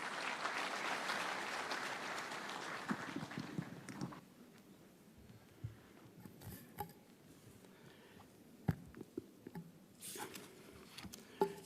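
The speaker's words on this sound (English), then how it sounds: "A round of applause." Audience at a health summit in a Nairobi conference hall applauding, a burst of clapping that fades after a few seconds into scattered faint claps and room noise.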